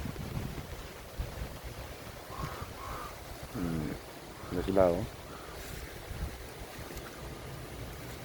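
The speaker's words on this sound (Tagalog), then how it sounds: "Kasi sobrang lakas sa ulan at saka sa hangin" Strong wind and rain buffet a goat farm, producing a constant rough rumble with gusts swelling loudly, while a person speaks briefly in between.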